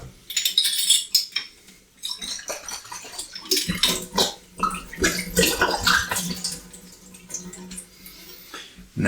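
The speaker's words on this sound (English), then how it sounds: "I will give the bottle a rinse out. I'm not using any Dettol, I'm just using water at this stage." Water splashes and sloshes as a glass beer bottle is rinsed out for home bottling, with irregular gurgling bursts and light clinks running for several seconds.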